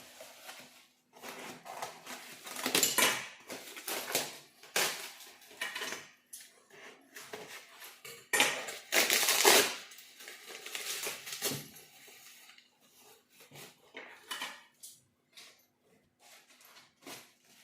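Rustling and clattering of a package being opened to unbox coco mulch plant support sticks, irregular crinkles and knocks at moderate volume, no talking.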